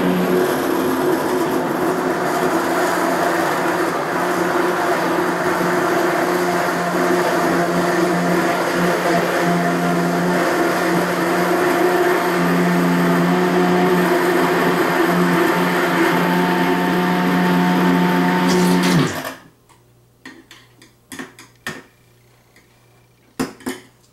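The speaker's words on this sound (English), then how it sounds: "This is my immersion blender. I'm going to hit it a couple times on the bottom to get those pickles." An immersion blender purees pickles in pickle brine, a loud steady motor whir with a droning hum that runs unbroken for about nineteen seconds. It then cuts off, leaving a few faint clinks and knocks.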